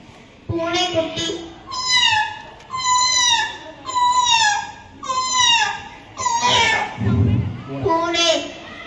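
A young girl imitates a kitten meowing, producing about seven high, rising-and-falling mews in a steady rhythm, close and clear with brief gaps between each cry.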